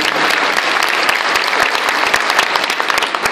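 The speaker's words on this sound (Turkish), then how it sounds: "Kendilerine şöyle dua mahiyetinde bir alkışla inşallah gönderelim diyorum." An indoor audience breaks into dense, sustained applause, many hands clapping at once at full volume, with faint crowd murmur beneath.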